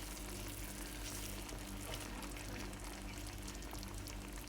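Chicken malai tikka frying in a pan in its yogurt-and-cream marinade liquid, giving a steady, even sizzle throughout, alone and moderately quiet.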